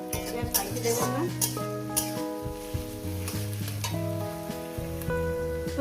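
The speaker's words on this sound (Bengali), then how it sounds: "দেখছেন কাঁচা লঙ্কা, পেঁয়াজ, রসুন সব কত সুন্দর আমি পিঙ্ক কালার করে ভেজে নিয়েছি" Green chili, onion and garlic sizzle steadily in oil in a pan over medium gas heat, a continuous close frying crackle with occasional stirring clinks and scrapes, alongside tonal music.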